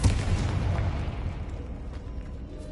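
A Confringo fire-blast spell goes off in Hogwarts Legacy combat, a single loud explosive burst at the start that rolls off into a low rumbling decay, close and alone with no talk over it.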